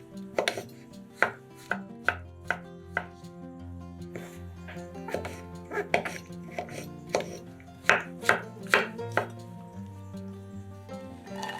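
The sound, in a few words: knife dicing mushrooms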